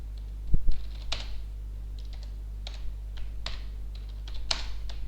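Keys on a computer keyboard are tapped in short irregular bursts with pauses between, close and fairly quiet over a low steady hum.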